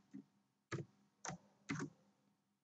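Four distinct keystroke clacks on a computer keyboard while code is typed, close and sparse in a quiet room.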